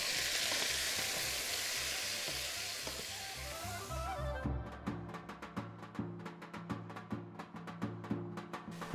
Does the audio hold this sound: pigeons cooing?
no